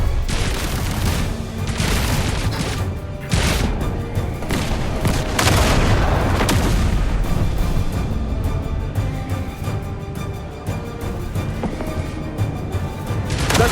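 Sustained gunfire in the video game Duet Night Abyss: dense overlapping shots and booming impacts fill the scene continuously, loud and chaotic with bursts and crashes throughout.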